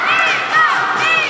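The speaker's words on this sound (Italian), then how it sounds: "Presenti una decina di rumorosi tifosi veneti, e dall'altra parte ovviamente il solito pubblico." Around ten noisy Veneto fans shouting and cheering at a women's Serie A2 basketball game in an arena, a sustained crowd roar with rising yells.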